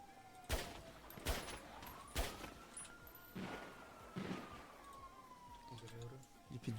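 Gunfire rings out in a GTA roleplay game, several sharp sharp shots spaced a second or so apart over a rising and falling siren-like tone, with a player's voice talking at times.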